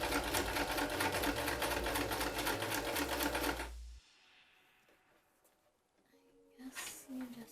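A sewing machine stitches tote bag straps with a loud, close, steady mechanical whir for about four seconds, then stops, leaving near silence before a brief voice near the end.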